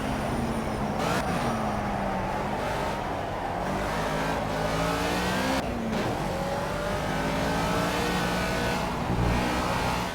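Race car engine in the driving game Project CARS, revving and shifting through gears with rising and falling whines and brief cuts between shifts, loud and steady for the whole stretch with no talk.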